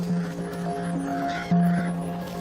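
Several ravens give harsh, croaking caws out in the wild, feeding together on a dead deer. The calls are close and overlap one another, with a louder burst of calling about halfway through.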